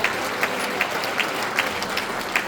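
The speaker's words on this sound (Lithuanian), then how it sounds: "Apdovanokime gausiais aplodismentais kiekvieną nominuotą žmogų" A large audience at a city year-awards ceremony in Alytus applauds the nominees with steady, dense clapping that fills the hall continuously, with occasional sharper claps standing out.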